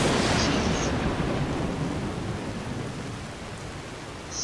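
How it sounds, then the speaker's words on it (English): Thunderstorm in the game Skyrim VR: a steady, loud wash of heavy rain fills the whole stretch, with a deep rumble underneath that slowly eases, and no voices. "storms around here are really something"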